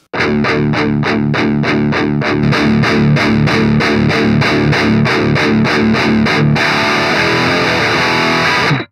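Overdriven electric guitar through a KSR Ceres preamp chugs out a fast, even run of palm-muted chords, loud and saturated, then ends on a long ringing distorted chord.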